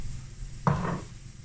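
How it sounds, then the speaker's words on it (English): Onions and bacon in a pan being broken down with a utensil, a single scrape and clatter of the spatula over a faint steady sizzle. "I'm just going to start to break those down in the pan, waiting for my onions just to go a little bit transparent"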